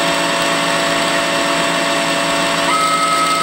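A Citizen A32VII CNC Swiss lathe spindle spins at 3,500 RPM, a loud, steady whine with a constant mechanical hum and a thin tone creeping in near the end, with no talk.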